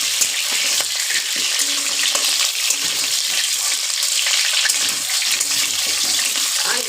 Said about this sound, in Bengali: আমি আলুটাকে একটু তেল ভীষণ গরম না হলেও দিয়ে দিলাম। এবার এটা একটু নাড়তে থাকে।